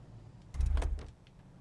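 Car door of a Studebaker Commander in LA Noire, a single close thud with a brief mechanical rattle as the player climbs in, alone without talk.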